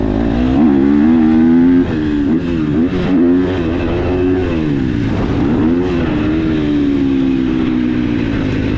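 A KTM 250SXF or Yamaha YZ250F motocross motorcycle engine revs hard and high, pitch rising and falling through repeated throttle blips, loud and close with no pauses.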